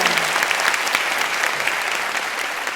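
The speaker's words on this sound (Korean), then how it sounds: "여러분 이럴 때 박수가 한번 나와주시고요." Audience applause at a lecture hall event, a steady, even clatter of many hands clapping together at moderate distance, continuing without a break and with no talking over it.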